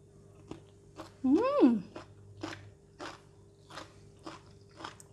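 Someone eats crunchy stir-fried baby French beans with chili garlic oil, a series of close, crisp bites and chewing crunches spread through the stretch, with a brief voiced hum-like sound near the start.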